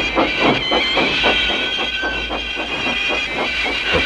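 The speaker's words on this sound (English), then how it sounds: "Thomas pushed and puffed and pushed as hard as ever he could." A steam engine puffs rhythmically, with rapid chuffs over a constant hiss and a high steady whistle-like tone, loud and close.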